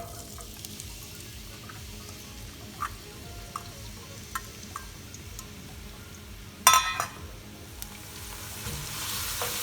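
Onions go into hot oil for a seafood paella and fry with a soft, steady sizzle and light stirring. One sharp clatter of utensils cuts through midway, and no one speaks.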